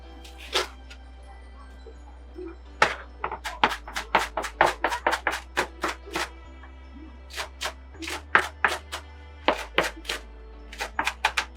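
Knife chopping food roughly on a board while making hamburgers, a brisk run of sharp, uneven taps and thunks, close and fairly loud, with a low steady hum underneath.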